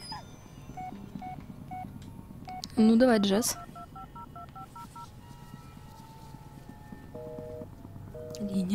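Telephone keypad tones from the Blair Witch video game beep in quick, evenly spaced bursts, with a louder rough noise in between and someone speaking briefly over the sequence.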